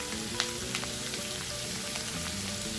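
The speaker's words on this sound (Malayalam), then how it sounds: "ഇനി ആ എണ്ണയിൽ തന്നെ ഉള്ളി ചേർക്കാണ്. ഉള്ളി വാട്ടാനായിട്ട് ഉള്ളി ചേർക്കാണ്." Onions sautéing in leftover oil for a dry anchovy and egg curry: a continuous, even sizzle heard up close with a few light clicks and pops, steady throughout.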